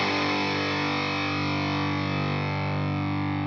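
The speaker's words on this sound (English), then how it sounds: "here's what that cool guitar sounds like" A heavily distorted electric guitar rings out a sustained chord through effects, loud and dense, fading slightly over a few seconds with no voices.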